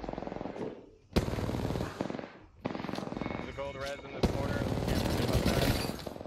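Automatic gunfire rattles in Apex Legends ranked play, with rapid bursts repeating over several seconds, loud and close, under a player's excited talk.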